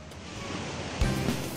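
Ocean waves surge on a Bangka Belitung beach where people push shrimp nets against the current, heard as a steady broadband rush with a slightly louder swell near the end and no talk.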